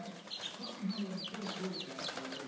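Several chickens cluck and chatter nearby in a busy, overlapping chorus, with a voice speaking faintly underneath.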